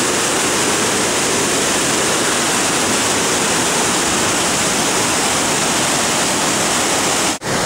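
Massive amounts of river water rush down in a dense, loud, unbroken roar that fills the whole range, steady throughout and close, with no voices over it.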